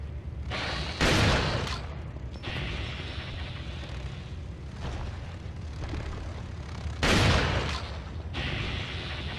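Shotgun blasts in Resident Evil 4: a few heavy booming shots spaced seconds apart over a dense, rumbling game soundscape, with no talking.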